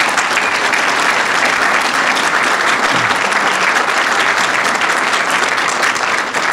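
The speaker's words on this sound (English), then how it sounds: "Give him a round of applause for his performance." A crowd at a political event in Cheektowaga applauding the Buffalo mayor, loud, dense and continuous clapping that fills the room without letup.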